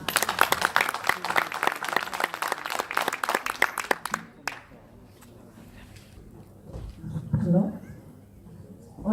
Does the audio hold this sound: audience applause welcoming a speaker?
yes